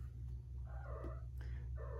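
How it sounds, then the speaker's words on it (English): A pet cat in a closet purrs in a steady low rumble, faint and continuous, with a few soft higher tones layered over it and no voices present. "both the cats like my closet, but Paige likes to go on top of the shelves"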